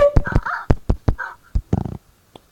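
Dogs in the Minecraft video game give a series of short, sharp barks and yips in quick bursts, close and loud, with brief whimpering tones between them and near silence at the end.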